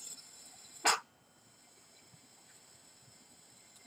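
Collected hydrogen gas ignites from a lit match with a single sharp, quick pop, loud and close, followed by near quiet and a second brief burst at the very end.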